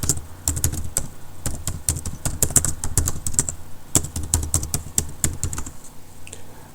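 Rapid computer keyboard typing during a software login, with irregular, closely spaced key clicks and a few louder strikes, continuous throughout with no voices.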